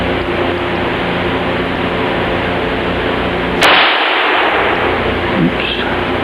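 A single sharp crack of a .22 caliber gun at an outdoor target range cuts through steady background hiss, loud and close, followed by a brief decay and a faint second knock.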